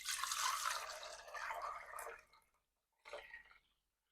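Liquid custard base for maple salted butter pecan ice cream pours back into a pan in a steady splashing stream for about two seconds, stops, then a second shorter pour follows after a brief pause.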